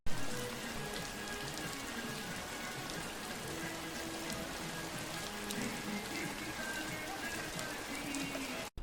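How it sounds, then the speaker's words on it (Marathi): Steady, heavy rain pours down continuously, a dense even patter on surfaces all around. "पाऊस निघायच्या टायमाला बरोबर जोरात आला आहे"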